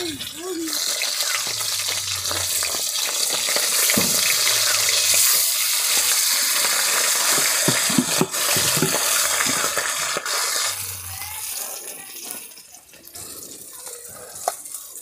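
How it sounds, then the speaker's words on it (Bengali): Fish pieces fry in hot mustard oil, giving a loud, continuous close sizzle with occasional clinks and stirring sounds and low voices in the background. "এখন আমি একটা একটা করে মাছ ভেজে নিচ্ছি।"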